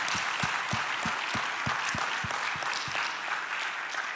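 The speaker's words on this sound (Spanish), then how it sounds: "Vamos a darle un aplauso al Señor porque Él es bueno" A church congregation applauding during a sermon, a steady wash of clapping with a regular rhythmic beat running through it, sustained evenly without talk.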